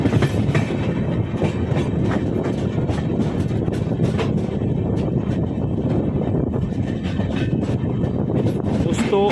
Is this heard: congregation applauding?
no